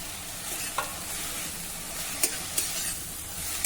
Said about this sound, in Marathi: आणि पुन्हा आता हे छान परतून घेऊ